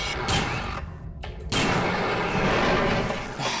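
Pistol shots from the video game System Shock 2 come in loud, close blasts. The boom fills the first second, cuts off briefly, then returns as dense, sustained gunfire and rumble.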